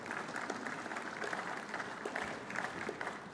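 Conference attendees in a main summit hall give a round of applause to welcome a speaker, a sustained crowd clapping with a dense, even texture and gentle swells, continuing without pause.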